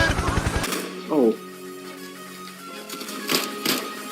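A short burst of rapid gunfire in the video game Decaying Winter opens the clip, followed by talking and a couple of sharper hits later on.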